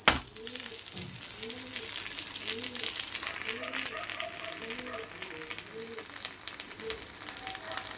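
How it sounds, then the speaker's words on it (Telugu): A sponge dosa roasts in a pan over a low flame, sizzling and crackling steadily and close by while someone talks over it throughout. "లో ఫ్లేమ్లో కాల్చుకోవాలి"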